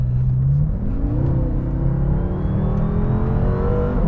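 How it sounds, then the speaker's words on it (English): A 2014 BMW M6 in sport mode pulls onto a highway, its engine note climbing steadily through the revs with rising whine and throaty drone, loud and close from inside the car. "in sport mode, I'm getting on the highway."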